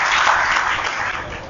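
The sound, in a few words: audience clapping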